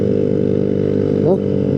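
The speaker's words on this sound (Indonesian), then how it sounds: "Ini motor struggle banget di sini nih." A motorcycle engine drones steadily and loudly as it strains up a steep, misty mountain road, the pitch holding a labored hum with a brief rising sweep near the end.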